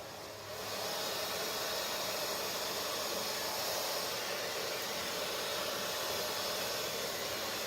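A hair dryer switches on and blows steadily, a loud continuous airy whoosh with a motor hum that holds without change.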